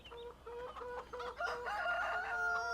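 Chickens in Farming Simulator 17 cluck continuously at close range, a busy chorus of hens with rising calls layered over a soft background hum.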